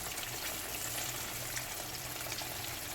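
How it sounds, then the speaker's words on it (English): Breaded zinger chicken pieces frying in oil in a pot over medium heat, a steady close sizzle with no pauses and no voices. "You want to fry this on medium heat, guys, not too high, not too low"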